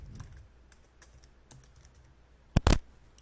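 Typing on a computer keyboard while entering registration details, a few faint scattered keystrokes followed by a short, louder burst of clicks near the end, with no talking.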